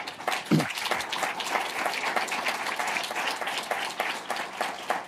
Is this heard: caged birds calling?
no